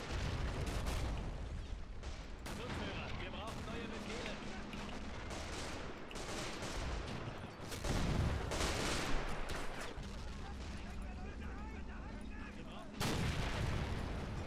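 Mortar fire in the WW1-mod Men of War: Assault Squad 2 multiplayer battle: a steady stream of booms, blasts and gunfire keeps going throughout, with heavier bursts of low rumble and a few sharp cracks standing out.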